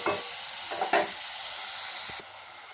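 Tomato, garlic and curry leaves being sautéed and stirred in a pan give a steady close sizzle, with a few soft scraping stirs before the frying hiss drops a little near the end.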